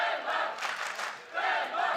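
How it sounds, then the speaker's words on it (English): A crowd cheers for Denmark at a pickleball championship, a loud roar of many voices swelling, dipping briefly, then surging again. "there's huge support for Denmark in the crowd, as you can hear"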